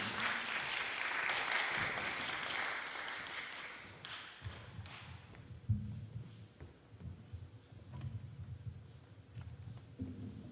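A church congregation at a Korean Thursday evening worship service claps in a brief burst of applause that quickly fades, leaving the low hum of the room and a few scattered taps.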